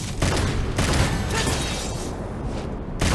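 Gunfire and impacts from the video game Devil May Cry 5 come as a dense, loud series of blasts and booms, with a few sharp onsets standing out against continuous game noise.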